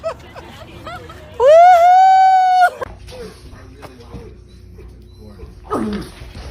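A dog lets out one loud, long, sustained howl at close range, with softer yelps and whimpers around it.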